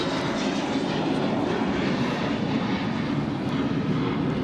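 An aircraft taking off from the Albert J. Ellis Airport runway, a loud continuous broadband engine roar holding steady throughout with no voices over it.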